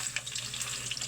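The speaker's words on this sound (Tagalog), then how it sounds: "Cooking muna tayo, cooking ng prito. Pinaritong spam." Spam frying in a pan, a steady close sizzle with scattered crackling pops running throughout, no talking.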